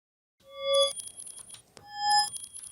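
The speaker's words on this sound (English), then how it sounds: "I'm going to take this wine glass sound and reverse it by hitting Control-R" A reversed wine glass ring and a reversed yo-yo sound, made as a game sound effect: two bright tonal swells that rise out of silence and cut off abruptly, with a short clicky burst between them.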